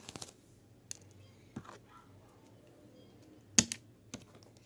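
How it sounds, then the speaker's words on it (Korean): A few separate clicks and taps from pressing keys on an oversized toy keyboard, spaced out over a quiet room background with no talk. "대왕 타자."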